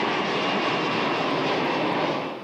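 A jet airliner roars steadily and loudly while taking off from Rio de Janeiro on an evening flight to Paris, a dense continuous engine rush that holds throughout and eases only slightly at the very end.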